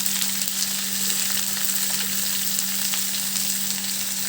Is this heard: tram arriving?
no